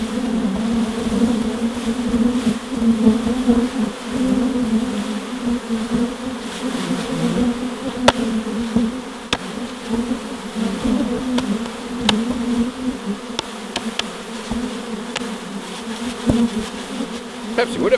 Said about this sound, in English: There's lots of bees there waiting to come out.